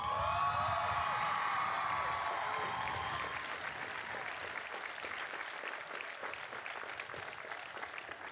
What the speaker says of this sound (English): Yeah, you can applaud that, that's for sure.